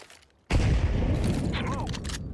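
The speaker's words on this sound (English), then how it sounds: "Throwing a flashbang." In a video game, a flashbang grenade goes off with a sudden loud burst that fills the sound and then rings on as a sustained roar.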